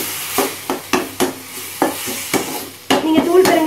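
A lump of asafoetida soaked in water stirred in a small container, producing close, distinct scraping and clinking strokes at an irregular rhythm, with a wetter churning swirl toward the end.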